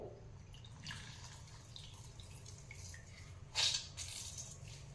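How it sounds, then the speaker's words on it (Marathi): Soaked slices of bread are squeezed firmly by hand, making a quiet wet dribble with one brief, louder squish-and-splash partway through. The setting is otherwise calm and there is no talking. "आपण कापलेले ब्रेड पाण्यात भिजून घेऊया आणि याला गच्च पिळून घेऊ"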